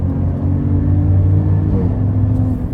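A Ram RHO pickup truck engine drones continuously while driving, a strong low rumble with a steady hum that stays close and even throughout, with no speech.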